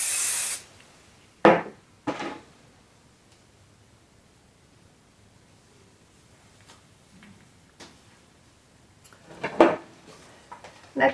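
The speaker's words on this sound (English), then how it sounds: "I spray it with a shaping spray so that it holds." Short hiss bursts of shaping spray from an aerosol can onto hair, a few separate sprays spaced apart with soft handling noises between them and no talking.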